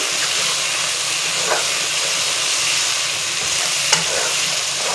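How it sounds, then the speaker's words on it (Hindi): Mutton karahi fries in oil in a wok, a loud, constant close hiss and sizzle with a couple of faint scraping stirs. "ऑयल ऊपर आने तक हम इसे फ्राई करेंगे।"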